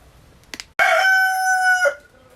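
A rooster crows once, loud and close, a clear sustained call preceded by a brief cluck from the chickens at an off-grid property in Italy.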